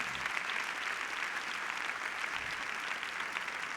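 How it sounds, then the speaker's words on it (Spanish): Church congregation applauding steadily and loudly, a dense continuous clatter of many hands filling a large worship space, with no talk over it. "Denle un fuerte aplauso a Dios."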